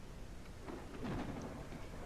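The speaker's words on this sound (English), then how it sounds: "There's the thunderstorm" A video game thunderstorm in a ranch-building game: faint rolling thunder rumbles under a steady wash of falling rain, distant and low throughout.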